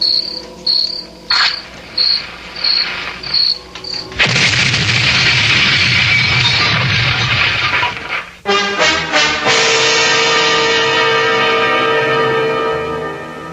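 A radio-drama sound effect of a car's gas tank exploding: steady cricket chirps give way to a sudden loud, roaring blast that rumbles for several seconds, then trails off into lingering ringing tones.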